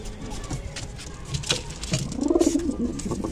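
Old Mechhiya pigeons in a loft give a rising, throaty coo near the end, close by, over faint rustling and patter of feet and wings.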